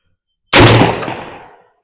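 A single Browning Auto-5 shotgun blast at an outdoor range, one loud sharp report with a ringing tail that fades over about a second.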